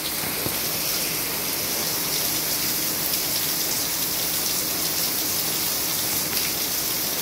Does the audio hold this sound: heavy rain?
yes